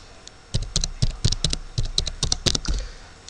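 Keys clack in quick irregular bursts on a computer keyboard as someone types a package search into the Synaptic package manager on Ubuntu GNOME 13.04, close and crisp with no talk.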